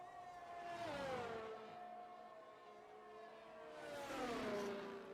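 A race car engine on a hot lap at Silverstone in a racing game holds a loud, steady whine. The pitch swoops down through a gear change, climbs again, then drops once more near the end.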